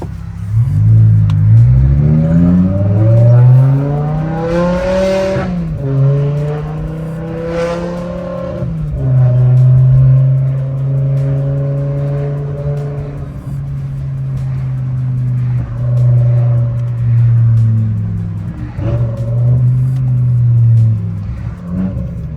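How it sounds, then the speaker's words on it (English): A BMW E60 M5 with the S85 V10 and a straight-pipe exhaust fitted with a 3-inch X pipe revs and downshifts, a loud, close, raspy engine roar that climbs in pitch, drops sharply and then settles into a long steady drone. "Here comes my favorite part on any straight pipe S85, that downshift."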